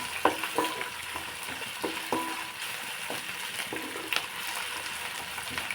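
Coconut milk simmering and frying in a pan for coconut rice, with soft sizzling and intermittent spoon-stirring scrapes, close and fairly quiet throughout.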